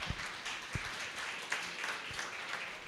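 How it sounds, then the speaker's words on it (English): An audience applauds after a podcast talk on workplace wellbeing, a faint, distant, steady patter of clapping with a few sharper individual claps. "Enjoy the applause."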